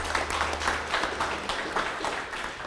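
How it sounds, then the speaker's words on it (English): A press-conference audience gives a round of applause for a gallery's grand opening, steady dense clapping with a few louder swells, fairly close and continuous throughout with no speech over it. "We have to give them a round of applause."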